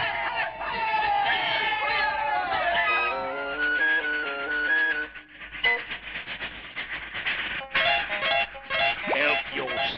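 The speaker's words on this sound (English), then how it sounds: "And listen to that other cheering crowd up ahead." Cheering crowd sound effect in a radio drama, a dense roar of many voices with shouts and excited calls, loud and steady throughout, thinning briefly midway before surging again.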